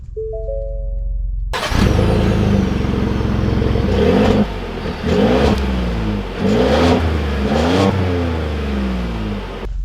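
A 2021 Ford F-150 STX pickup with the 3.5 EcoBoost engine starts and sets off, its engine firing up loudly nearby, then rising and falling through several revving surges as it pulls away.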